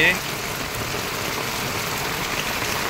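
Heavy midday rain pours down in the Konkan countryside, a dense, steady hiss of drops striking surfaces and trees, loud and unbroken throughout.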